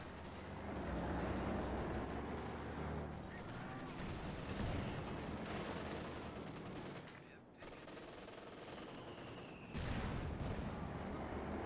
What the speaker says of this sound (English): 50 cal firing into the Jaeger command squad, not getting the suppression